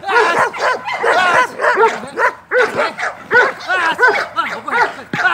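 A dog trained for army attack work barks and yips in rapid, loud bursts close by, with brief whimpering breaks between volleys during attack training.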